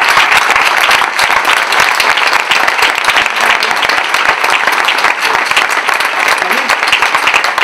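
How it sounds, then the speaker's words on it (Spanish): Audience applause at the close of a talk on popular philosophy, dense steady clapping from a full crowd sustained throughout, loud and near. "Un aplauso, adiós."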